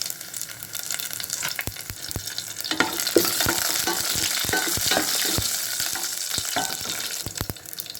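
Mustard seeds, urad dal and chopped green and dried red chillies fry in hot oil for a neem flower rasam, a steady close sizzle with sharp scattered pops and crackles and some stirring.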